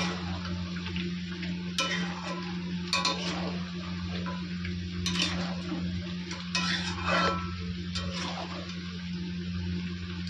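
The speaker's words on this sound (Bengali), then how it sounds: "এগুলো একটু ভেজে নিই। তেলে ঢাকা দেওয়া থাক।" Potatoes fry in oil in a covered pan, with irregular bursts of crackle and sizzle popping over a steady low hum at moderate loudness.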